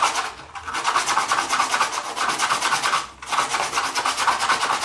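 120 grit sandpaper rubs briskly along a wooden dowel in quick back-and-forth strokes, a close, continuous rasping with one brief pause, with no talk.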